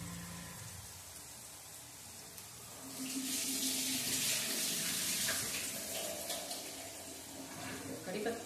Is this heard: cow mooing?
no